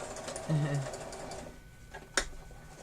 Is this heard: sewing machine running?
yes